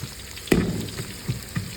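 Capsicum fries in hot oil in a pan, giving short crackling sizzles and a few stir-like bumps over a brief moment. The sound is close and moderately loud.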